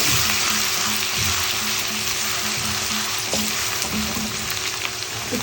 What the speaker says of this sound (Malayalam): വെളിച്ചെണ്ണ ചൂടായി ഇതിലേക്ക് നമ്മൾ നേരത്തെ ചതച്ച് വെച്ച ഇഞ്ചി വെളുത്തുള്ളി പച്ചമുളക് ചേർത്തിന് ശരിക്കും വഴറ്റി കൊടുക്കുക